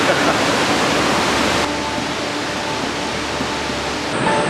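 Nachi waterfall on the Kumano Kodo pours with a dense, loud, unbroken roar, close and steady from start to finish with no other sounds breaking through.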